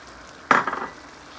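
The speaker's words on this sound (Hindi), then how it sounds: "अब हम इसमें अजवाइन डालते हैं" Carom seeds (ajwain) hit hot tempering fat for mixed dal, bursting into a sudden sharp sizzle that crackles briefly and fades within half a second against a quiet background.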